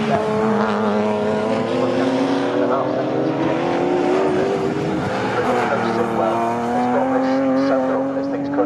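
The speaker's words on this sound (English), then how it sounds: "That Holden sound is absolutely wonderful as it howls past the commentary box." A Holden Commodore saloon race car at a classic race at Snetterton howls past at full throttle, its engine note loud and sustained and shifting in pitch as it passes, while a commentator talks over it.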